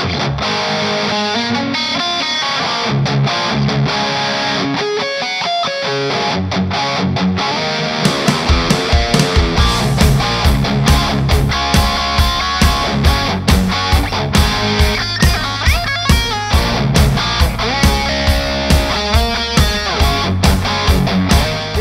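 SBS VS200 offset-body electric guitar with Alnico V pickups and a hard rock maple build, played loud and distorted: dense riffing at first, then steady, punchy rhythmic chugging with drums for the rest, no talking.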